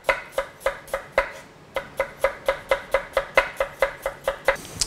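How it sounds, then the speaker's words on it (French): Knife slicing halved onions very thinly, about 2–3 mm, on a cutting board: a fast, regular series of crisp, close chops, roughly three per second, with a brief pause after the first few strokes and no voices. "je les coupe en deux et je les émince bien finement, 2-3 mm d'épaisseur"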